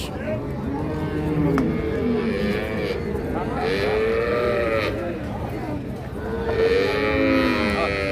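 A Holstein Friesian cow moos several times, loud and close, in long drawn-out calls at a cattle market, with people's voices murmuring in the background.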